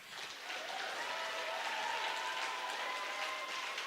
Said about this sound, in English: you can applaud yourself because you deserve to be applauded